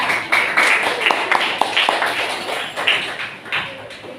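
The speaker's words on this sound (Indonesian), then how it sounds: "Beri tepuk tangan untuk kelompok Valencia" A classroom of students gives a short round of hand clapping for a group, scattered sharp claps over several seconds with faint voices mixed in.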